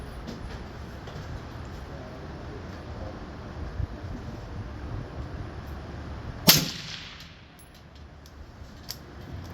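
A single sharp gunshot from an NFA firearm cracks out once partway through, loud against a low, steady outdoor background, then the scene falls quieter.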